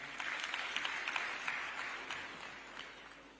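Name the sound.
applause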